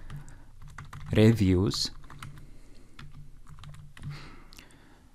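Typing on a computer keyboard while entering an SQL create-table command: quiet, scattered key clicks under a voice, which speaks one word over them.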